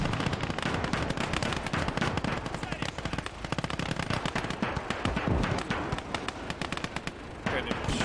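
Dense rapid gunfire and heavy artillery explosions in a Russian-campaign war video game, a continuous loud barrage of bursts and booms with voices talking over it.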